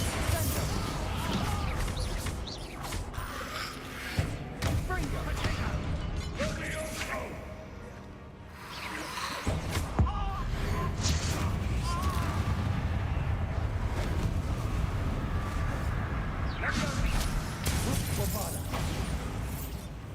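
A Confringo blasting spell goes off in a Harry Potter video game, a sustained run of heavy crashing, rumbling booms and creaking debris, loud and close, with a brief lull near the middle before the chaos resumes.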